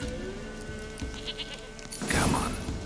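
A goat bleats in The Witcher 3, a short loud bleat close by after a quieter ambient stretch of game sound.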